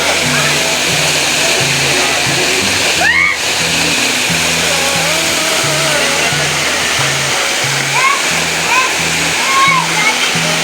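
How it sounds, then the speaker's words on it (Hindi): Steady broadband rush of water plunging down the highest waterfall in Pakistan, continuous and loud throughout, with background music and a voice talking over it. "जब पानी का चश्मे में ज्यादा आता है तो इस साइड से भी पानी गिरता है और यहाँ पे तो गिरता ही रहता है।"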